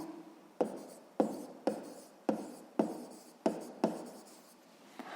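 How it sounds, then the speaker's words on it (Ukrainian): A pen writes fractions on paper in about eight short, evenly spaced scratchy strokes, each starting sharp and fading. It is quiet and close with no voices. "Так і пишемо дроби у порядку"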